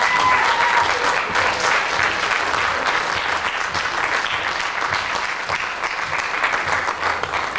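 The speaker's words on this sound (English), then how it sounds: "Let's give our models a final round of applause." Audience applause for models at a 1998 prom fashion show, a dense, steady wash of many hands clapping that runs loud and continuous throughout with no talk over it.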